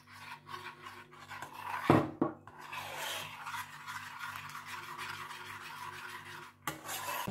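Scraping and rubbing of a utensil stirring an ice cream mixture of dissolved gelatin and warm liquid cream in a bowl, close and steady with a sharper clatter near the start and a rasping texture throughout.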